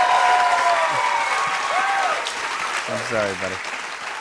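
Audience applauding at a Penn & Teller magic show, broad crowd clapping that fades slightly while someone speaks briefly over it.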